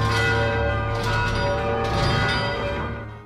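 An alarm bell in an imperial city is rung as a danger warning, with loud, resonant clangs about once a second that overlap into a sustained ringing before fading, and no voices.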